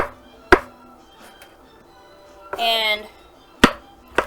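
A knife chops turnip greens on a cutting board in a home kitchen, a few sharp separate thunks spaced through the clip with a speaking voice between them.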